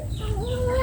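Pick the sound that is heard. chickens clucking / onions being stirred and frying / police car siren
chickens clucking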